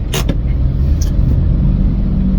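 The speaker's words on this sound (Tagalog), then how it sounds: "Guys, sobrang traffic." Car noise in heavy stop-and-go traffic on the way to NLEX, heard from inside a Lalamove hatchback: a steady low engine and road rumble, loud and continuous, with a couple of brief bright clicks early on.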